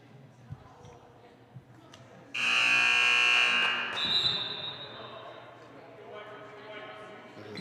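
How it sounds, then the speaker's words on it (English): A loud, sustained warning buzzer sounds once at a high school girls' basketball game in a gym, holding for about a second and a half before giving way to crowd noise and an announcer talking. "There's your warning buzzer."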